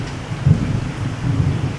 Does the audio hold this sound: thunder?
yes